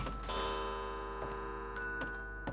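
A music box in the Underhell video game plays a sustained, shimmering chord while soft, regular ticks tap through it every half second or so, close and clear with no voices.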